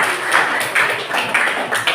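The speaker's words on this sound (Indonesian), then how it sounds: "kita beri tepuk tangan" Small classroom group claps in a brief, uneven burst of close handclaps lasting about two seconds, with slight room echo.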